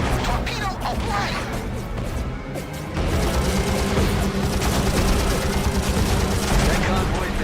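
Gunfire bursts and heavy impact crashes from torpedo hits in the naval air combat game Heroes of the Pacific, loud and continuous with a brief lull before a renewed barrage.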